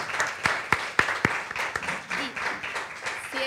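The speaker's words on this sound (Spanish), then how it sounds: "yo creo que los tenemos que aplaudir muy fuertemente" An audience claps after a talk about the launch of the Argentine SAOCOM-1B satellite, starting with a few distinct sharp claps that thicken into steady, moderate applause filling the room.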